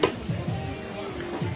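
Food sizzles in a frying pan during a cooking class at a Greek vocational cooking school, a close, continuous crackling hiss with short scraping stirs that recur every fraction of a second.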